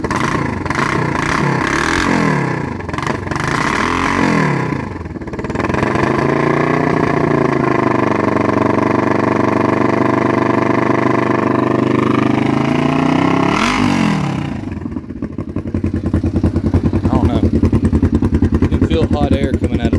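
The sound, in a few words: Kawasaki Vulcan EN500 motorcycle engine running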